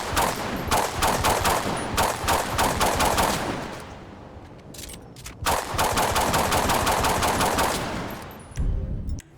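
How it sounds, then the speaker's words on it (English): Glock pistol fire in GTA V with a realistic weapon sound mod, loud rapid volleys of shots in two long bursts separated by a brief lull, then a short final burst. "Here's your Glock."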